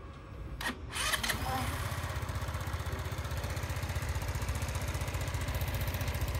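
A small fuel-injected Sym Jet 14 scooter engine idles at a slightly raised idle speed with a steady, rapid putter after a brief click at the start, close and even throughout.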